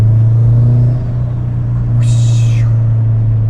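A 2005 Subaru STI engine idles with a deep, steady rumble as exhaust vents to the atmosphere, loud and close, with a brief hissing burst of air venting partway through and no talking.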